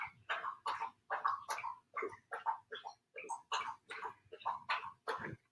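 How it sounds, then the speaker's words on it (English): A dog laps and guzzles water in a nearby room, a quick rhythmic series of wet slurping gulps, fairly close and clear, with no talking over it. "My dog is guzzling water in the next room."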